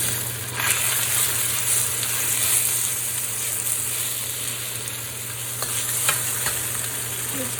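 Shredded chicken and julienned kohlrabi stir-fried in a wok over ginger and garlic, giving a loud, steady sizzle with rhythmic scraping and clattering of the spatula against the metal throughout.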